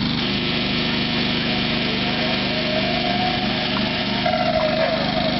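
A Honda portable generator runs at a steady, close engine drone with an even hum and faint mechanical rattle throughout, no one talking over it.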